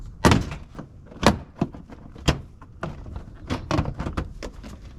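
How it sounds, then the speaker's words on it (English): Front bumper of a 2018 or later Subaru Crosstrek being peeled off, a series of sharp plastic clicks, pops and thunks at irregular intervals, close and moderately loud. "we can just peel back the bumper"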